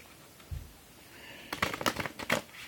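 Magic: The Gathering cards are shuffled close by, a faint dull tap followed by several quick, crisp riffling bursts of cards.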